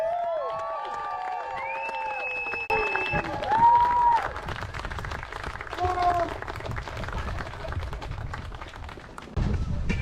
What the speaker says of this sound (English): Let's give this lovely couple a loud round of applause